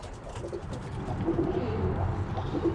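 Birmingham Roller pigeons coo softly and repeatedly in a loft, low rolling calls overlapping at moderate distance against a faint background hum.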